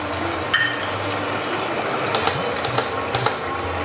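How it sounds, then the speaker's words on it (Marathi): An induction cooktop being switched on while a vegetable curry cooks gives a few short, high electronic beeps, three evenly spaced near the end over a low background hum. "आता मी पुन्हा एकदा जरा इंडक्शन चालू करते"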